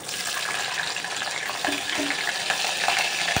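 Green chillies and cumin seeds fry in hot oil in a pan, giving a steady, close, crackling sizzle with light spattering and no voices.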